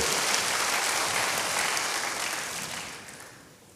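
Sustained applause from a large church congregation, dense and steady, gradually fading toward the end.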